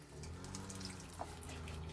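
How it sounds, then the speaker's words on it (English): Water poured onto compost in a new compost bin: a soft, steady splashing trickle with a brief louder spatter midway, faint and close, without voices. "I'm going to give it a bit of a water"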